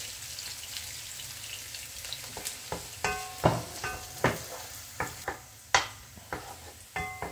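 Onions sizzle in a hot frying pan as a base for cooking capitaine fish, with a steady close hiss and irregular sharp clinks and scrapes of a utensil stirring against the pan.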